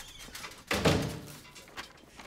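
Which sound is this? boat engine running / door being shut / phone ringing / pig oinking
door being shut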